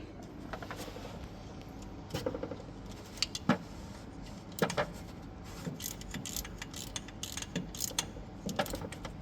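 Metallic clicking and ratcheting from tightening the starter motor cable lug nut on a UTV, a run of small irregular clicks and ticks, fairly close and moderately quiet with no talk.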